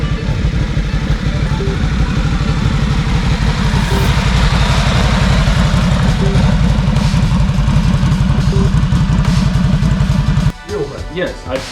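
Vyrus 988 motorcycle engine idling steadily and loud throughout, a low rhythmic throb with a faint periodic tick, dropping off abruptly near the end, with people talking over it.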